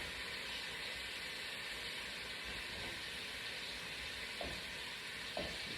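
Carrots sizzle in hot oil in a pan while cooking for barria tacos, a faint, steady frying hiss with a couple of soft clicks near the end.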